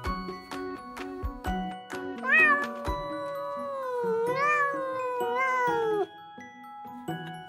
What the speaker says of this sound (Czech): Takhle mňouká kočka.